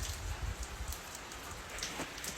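Steady rain falling and pattering on surfaces during a Jamaican downpour, a dense continuous hiss with scattered drop splashes, fairly close and alone without voices.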